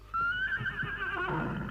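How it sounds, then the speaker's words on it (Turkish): A horse whinnies loudly in a Turkish radio drama about Köroğlu, a long rising and falling neigh that begins abruptly and carries on close and clear, with no talk over it. "Kişneyen at bizimkiler değildir."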